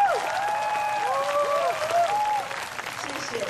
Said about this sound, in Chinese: 可不可以请大家给我们辛苦的同学一个很大的掌声？